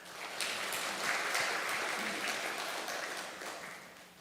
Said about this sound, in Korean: 우리 다시 한번 박수 한번 더 쳐드립시다